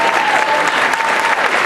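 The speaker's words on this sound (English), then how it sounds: "Let's give them another round of applause." Audience at a session in Houston giving a round of applause, dense steady clapping from many hands that fills the whole short stretch at full level.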